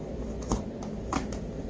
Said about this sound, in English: I'm still shuffling because this is very interesting